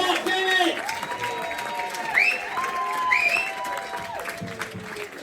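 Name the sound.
audience clapping and cheering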